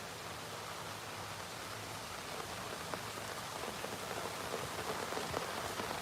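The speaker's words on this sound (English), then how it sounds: "Okay, no, just more rain." Rain pours steadily outdoors in New Orleans, a broad, even hiss of falling water with scattered sharper drops standing out near the end, close and continuous with no talking.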